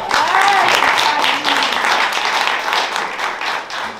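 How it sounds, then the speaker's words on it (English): Guests at a birthday party give a round of applause, with clapping mixed with cheering and voices, loud at first and easing off slightly toward the end. "Give her a round of applause"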